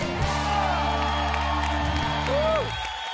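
A TV singing-competition audience cheers and whoops over loud music with a steady beat, the noise swelling throughout with no clear breaks.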